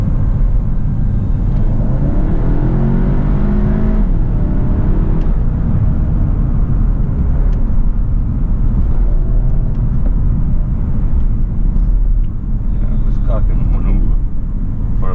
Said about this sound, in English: So S mode perfectly fine. The car drives so much nicer.